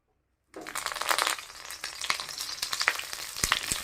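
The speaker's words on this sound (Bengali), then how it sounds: "কড়াইতে তেল দিয়ে দিলাম, মাছের পাতুরিগুলো আমি তেলের মধ্যে দিয়ে দিলাম" After a brief silence, a loud burst of oil sizzling and crackling begins and continues with sharp pops as rohu fish paturi parcels in banana leaf fry in a pan.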